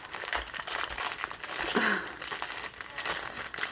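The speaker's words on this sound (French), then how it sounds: "Je vais être obligée de déchirer le sac." A plastic bag torn open by hand during an unboxing of a diamond painting and cross-stitch delivery, giving continuous close crinkling and crackling for several seconds with no one speaking.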